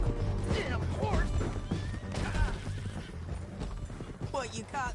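Horse whinnying and clip-clopping hooves in the Western video game Red Dead Redemption 2, loud and close, mixed with a voice talking and shouting throughout.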